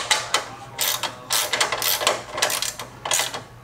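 Ratchet wrench clicking as a bolt is tightened during installation of an aluminum front fender on a Jeep JK, quick bursts of close, crisp clicks in repeated strokes with short pauses, no voices.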